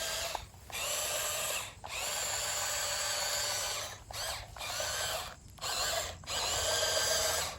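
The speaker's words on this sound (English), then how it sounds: "That's a lot of sand it's scraping." A Maisto Tech RC T590 compact track loader, a toy Bobcat, scrapes and grades sand with a steady high electric whine and gritty scraping, broken by several short pauses as the motor stops and restarts.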